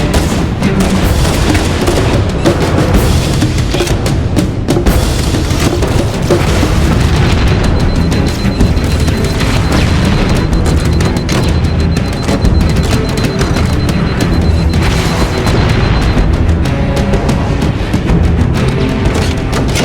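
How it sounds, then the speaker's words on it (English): Rocket launcher blasts in Halo: Combat Evolved, deep booming explosions mixed with gunfire and battle noise, loud and continuous throughout with no talk. "Let's switch out the plasma pistol for the rocket launcher"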